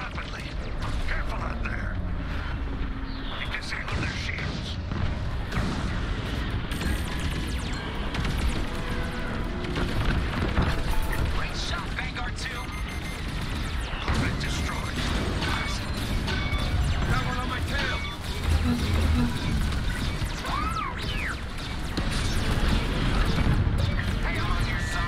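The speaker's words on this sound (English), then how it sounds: "Lots of shit blowing up around the Star Destroyer." Repeated explosions around a Star Destroyer in the Star Wars Squadrons video game, dense crashing blasts and booms layered over constant space-battle noise, loud throughout.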